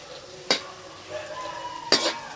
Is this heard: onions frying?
yes